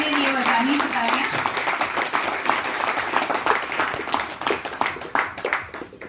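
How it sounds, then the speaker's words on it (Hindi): An audience at a national organisational meeting in India breaks into vigorous applause, steady dense clapping at moderate level that thins out toward the end. "जोरदार तालियां होनी चाहिए"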